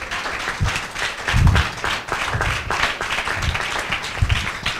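A church congregation at a Telugu sermon claps hands in praise, a steady rhythmic clapping with low thumps and occasional voices mixed in, fairly loud and continuous throughout.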